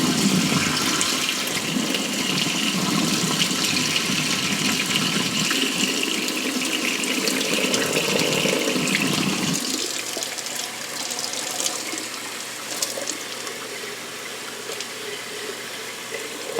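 Tap water runs steadily over sprouting seeds, a loud close rushing stream that shifts to a thinner, lighter splash partway through, with no talking.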